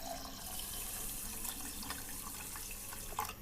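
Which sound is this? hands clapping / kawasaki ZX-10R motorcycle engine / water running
water running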